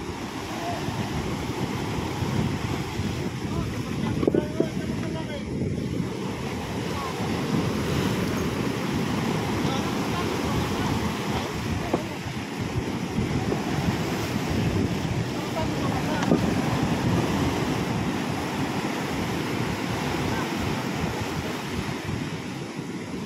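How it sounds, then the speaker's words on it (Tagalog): Strong sea waves crash and surge continuously while heavy wind buffets the microphone, a loud, rough, unbroken roar from a fishing spot on the Libyan coast. "Malakas ang alon mga kabayani."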